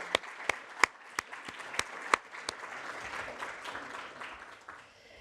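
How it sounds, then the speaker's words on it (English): Audience at a Geneva Challenge youth event applauding, with sharp individual claps standing out at the start before settling into a softer, steady patter that fades near the end. "Give yourself a big round of applause."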